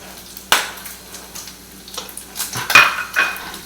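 A knife cuts ham on a wooden cutting board with a handful of sharp taps and clattering knocks, close and fairly quiet, spaced irregularly with short pauses and no voices.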